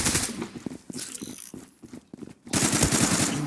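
Bursts of machine gun fire in the online shooter Zula, rapid rattling volleys that stop and start in the first half, then a loud continuous burst in the final second, with a voice speaking and laughing between the bursts.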